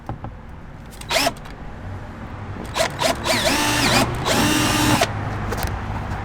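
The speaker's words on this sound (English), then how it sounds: "let's drill straight through it" A power drill drilling through a car part fires in short bursts, then runs in two longer whirring pulls that rise and fall in pitch, close by, over quiet background noise.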